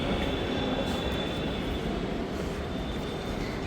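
A metro train rumbles through a Bangalore metro station, a loud, steady roar of wheels on rail that fills the whole stretch with no break and no voices.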